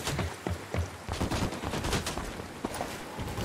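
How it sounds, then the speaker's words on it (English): Dense gunfire in Ghost Recon Wildlands, rapid overlapping shots and bursts from several weapons at close to middle range, continuous and loud throughout, with no talking. "Taking fire from the bridge."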